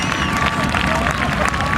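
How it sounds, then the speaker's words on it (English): An airshow audience applauding the AeroShell Aerobatic Team, dense clapping and crowd babble with a voice over it. "Give them a big round of applause"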